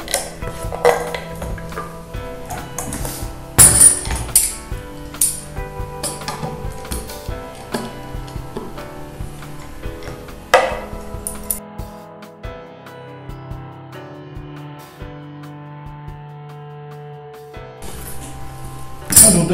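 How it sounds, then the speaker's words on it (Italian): A power screwdriver drives a screw into a wooden cake turntable, with short bursts of motor whir and clattering, ratcheting clicks of the bit, close up and moderately loud, pausing between runs. "dobbiamo proseguire all'avvitatore finché la testa non entra fin dentro il legno"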